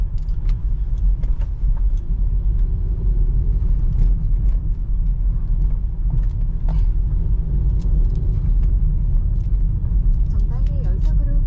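Kia Niro rolling over a series of consecutive speed bumps, with a steady low road rumble and cabin noise throughout, small rattles and clunks from the underbody, and voices talking inside the car.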